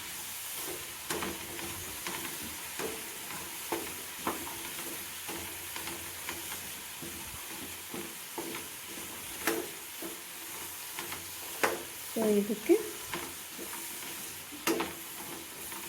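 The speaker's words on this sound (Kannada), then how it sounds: "ಪ್ಯಾನ್ ಇಟ್ಕೊಂಡಿದ್ದೀನಿ ಈ ಕ್ಯಾಬೇಜನ್ನ ಫ್ರೈ ಮಾಡೋಕ್ಕೆ" Red cabbage fries in a pan with a soft, steady sizzle and hiss, punctuated by scattered clicks and knocks of stirring, heard fairly quiet and close, with one brief spoken word.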